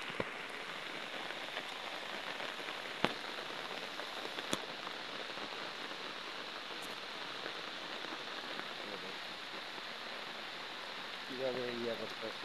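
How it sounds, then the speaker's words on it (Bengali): Steady rain falling during a heavy downpour in Bangladesh, a soft even hiss of drops on surfaces with a couple of sharp taps and a faint voice near the end. "দর্শক দেখেন কিভাবে বৃষ্টি পড়তেছে।"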